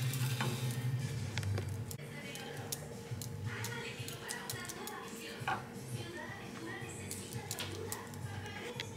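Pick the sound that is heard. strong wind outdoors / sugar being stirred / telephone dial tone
sugar being stirred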